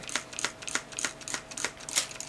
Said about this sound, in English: I'm just spritzing a little bit of water on the paper towel